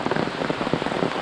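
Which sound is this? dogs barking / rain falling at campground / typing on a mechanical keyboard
rain falling at campground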